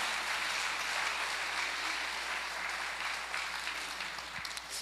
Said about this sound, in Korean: 하나님께 박수.